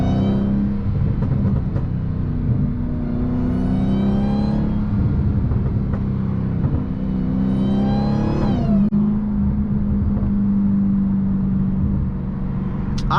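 Supercharged 2016 Dodge Challenger Hellcat running without its hood, a loud close engine note rising and falling through repeated revs and accelerations with a few sharp crackles on the overrun.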